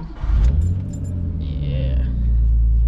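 Nissan Skyline R32 with an RB25 engine cranking and catching, then settling into a steady, loud low rumble at idle close by, with a brief jingle of keys at the start.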